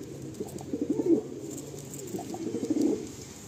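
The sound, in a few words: Madrasi pigeons cooing and fluttering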